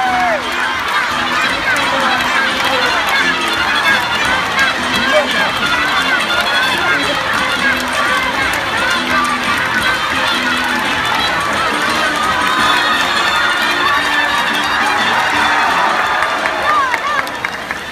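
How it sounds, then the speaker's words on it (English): A loud crowd of supporters cheers and shouts continuously for a bird race at Jurong Bird Park, with children's voices and scattered clapping in a dense, sustained roar and voices talking within it. "Supporters, I think you need to cheer louder for the birds."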